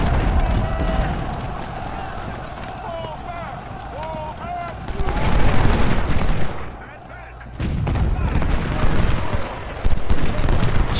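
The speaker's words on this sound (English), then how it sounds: "And Smith just charged into the Union lines there, trying to overrun the infantry unit and the artillery that's there" Gunfire and artillery in a First Bull Run Civil War battle video game, a dense continuous roar of musket volleys and booming cannon blasts, with voices heard over the din.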